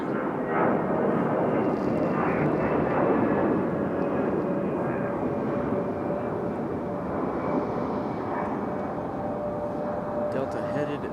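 Delta airliner passing at Raleigh-Durham airport, a steady broadband jet roar that holds loud and continuous throughout with a faint high whine, sounding close.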